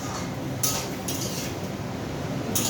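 A spatula scraping and clinking through kabuli chickpeas sautéing in a pan over a high flame, with a few separate strokes spread across a constant low hiss, close by and with no talking.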